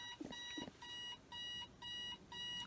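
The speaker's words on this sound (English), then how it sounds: "my alarm is going off" An alarm clock beeps in bursts of repeated tones, four clear pulses separated by short gaps, with a couple of dull thumps near the start.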